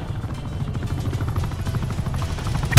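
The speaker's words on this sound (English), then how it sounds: "Attack chopper available for tasking." An attack helicopter in a video game gives off a steady, loud rotor thrum with rhythmic chopping pulses. Muffled game noise sits underneath, and a sharp thump comes at the end.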